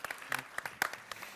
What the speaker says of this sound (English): So one round of applause for Deri, actually, for that other keynote.